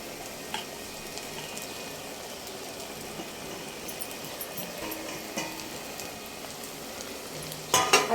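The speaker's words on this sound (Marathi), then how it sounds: "आता ह्याला हलवायचा आहे" Poha with fried onion and turmeric is stirred in a pan, giving a soft, continuous frying crackle with occasional scrapes and a louder clatter near the end.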